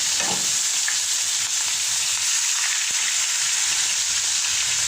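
Seasoned, flour-dusted shrimp sear in a hot pan with a loud, continuous, dense sizzle that stays even throughout, close and steady with no talking.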